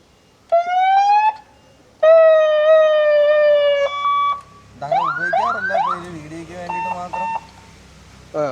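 An ambulance-style electronic siren on an auto-rickshaw blares close by: steady high wails, then a rapid rising whoop pattern and short warbling bursts, loud and alone.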